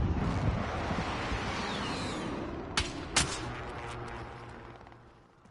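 Call of Duty Warzone gunfire on PS5, heard as a couple of sharp distant shots over a constant roar of wind and ambient game noise.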